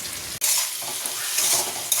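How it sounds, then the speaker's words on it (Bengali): Marinated fish fries in hot oil with a loud, close, crackling sizzle, briefly cut by a sharp clunk early on, then continuing unbroken. "এদিকে আমার তেলও গরম হয়ে গেছে। চলো চটপট ভাজা যাক।"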